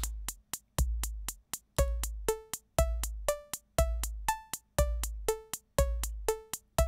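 VCV Rack modular synth sequence playing two pitched notes per second over a steady beat of a once-per-second bass drum and a quick four-per-second hi-hat, loud and regular with no talking.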